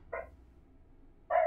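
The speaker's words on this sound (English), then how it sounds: "oh, the doggies are barking." Dogs bark twice, short sharp yaps about a second apart, the second louder and closer, with quiet room noise between and no talk.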